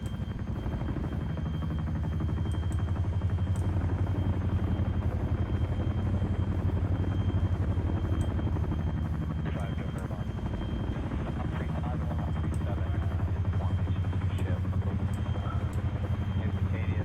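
A Chinook helicopter in Arma 3 flies nearby with a loud, continuous rotor thump and deep engine rumble, sustained and steady throughout, with faint talk underneath.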